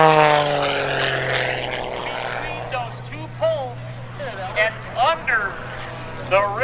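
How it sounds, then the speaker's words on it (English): Aerobatic propeller plane flying low at an airshow, a loud droning engine that sweeps and fades in pitch as it passes, with an announcer talking over it. "Direct your attention to Airshow Center and Skip maneuvers out there"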